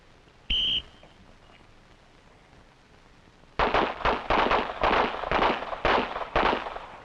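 A volley of rifle shots on a firing line, about eight sharp cracks in quick irregular succession after a brief high whistle and a quiet pause, loud and close.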